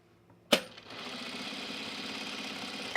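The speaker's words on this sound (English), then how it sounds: "I'm actually going to sew it from the right side because I have a top stitch thread on top" A sewing machine hems overalls with topstitch thread on top and a regular bobbin underneath, opening with a sharp click before a steady, close mechanical whir runs to the end.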